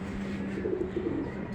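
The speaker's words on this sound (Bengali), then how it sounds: "দেখি কোন কবুতর কেমন আছে না আছে" Pigeons coo steadily on a rooftop, a low soft murmur running continuously at close range with no voices over it.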